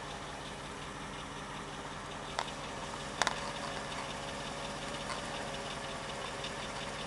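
A Mercedes-Benz W211 E55 AMG engine idles steadily with a faint, irregular ticking and knocking from under the left side, a few sharper clicks standing out over the constant hum.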